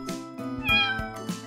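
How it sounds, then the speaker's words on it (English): A cat meows in short repeated calls, close and clear, in a cartoon animal alphabet segment, with no talk over it. "Cat."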